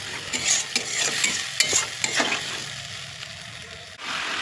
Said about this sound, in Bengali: জলটা দেওয়ার পর ঝোলটা ফুটছে